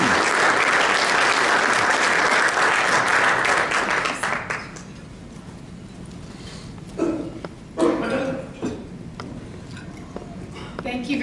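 Audience applause welcomes Jennifer Montgomery of the Kansas Attorney General's Office at a human trafficking talk. A full, dense crowd claps loudly for about four seconds, then fades to scattered claps and room noise with a few louder handling bumps.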